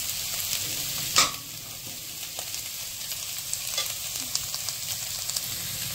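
Onions fry in a pan for a Goan-style bitter gourd sabzi, a continuous moderate sizzle broken by a few stirring scrapes and clicks, with one sharper knock near the start.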